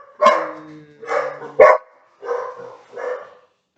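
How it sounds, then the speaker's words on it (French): Several dogs bark indoors in five short, loud bursts, one sharp yip among them, spaced unevenly with silence between and no talk over them. "mes chiens ont fait un peu de bruit"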